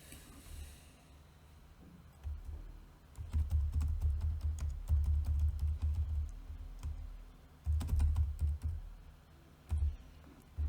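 A computer keyboard is typed on for writing code, quiet and close, with bursts of rapid key clicks separated by short pauses.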